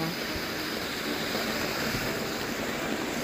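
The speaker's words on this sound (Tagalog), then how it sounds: "At ito yung tubig na umaagos galing sa bundok." Water flowing down a mountainside in the Dolomites during rain, heard as a steady, continuous rushing wash that stays even and unbroken throughout, with no voices over it.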